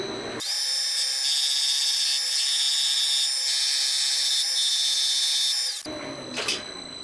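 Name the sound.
grinding down part of a Honda Monkey four-cylinder cylinder head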